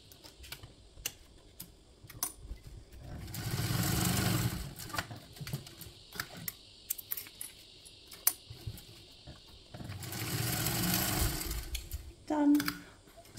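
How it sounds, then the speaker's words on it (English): A sewing machine top stitches the top and bottom edges of a fabric piece in two steady whirring runs, separated by soft clicks and handling sounds, close and clear. "we are going to top stitch just the top edge and the bottom edge at 1/8 seam allowance."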